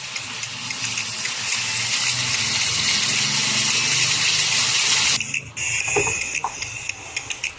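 Water pours from a tap into a pan of sautéed pork for langka sa gata, a loud steady gush for about five seconds, then cuts off, followed by softer splashing and clinks.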